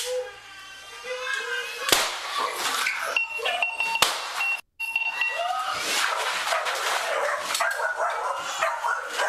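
A dog barks repeatedly and urgently during a tense police encounter, the yelps loud and close, broken by a couple of sharp bangs and a brief dropout.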